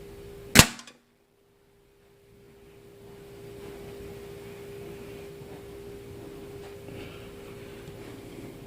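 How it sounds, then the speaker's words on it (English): A Daisy 840 low-velocity air rifle fires a single sharp, close crack at the start, followed by near silence and then a low steady room hum. "So I'm going to fire that shot."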